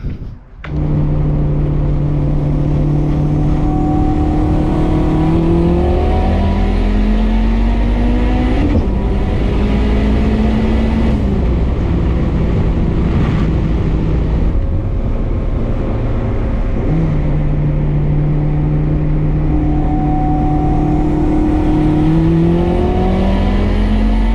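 A turbocharged K20-engined Honda EF sedan pulls away and drives off, its loud engine rising through repeated rev climbs and gear changes, up close and without any talk.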